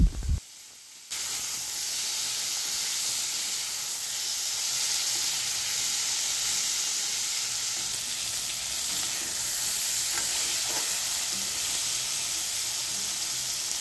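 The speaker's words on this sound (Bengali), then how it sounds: "ভালো করে নাড়াচাড়া করে নেওয়ার পর টমেটোটা একটু নরম হলে" Steady, loud sizzling of potatoes and tomato frying in a pan, with faint scraping and stirring noises under the continuous hiss.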